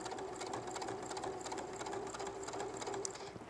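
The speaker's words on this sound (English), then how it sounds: "I take 3 or 4 stitches, then I slide my other little unit in and we'll sew right along that 1/4 inch" A sewing machine stitches a quarter-inch seam on a quilted fall table runner, giving a fast, even mechanical whir with rapid needle clatter, close and continuous.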